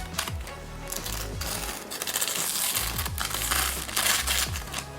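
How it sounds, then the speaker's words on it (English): A paring knife from a Henckels set slices through a sheet of paper, giving close, crisp crinkling and tearing rasps in several quick bursts, with no talk. "I do have a piece of paper. If you guys cut through it, you can definitely see how sharp the knife is."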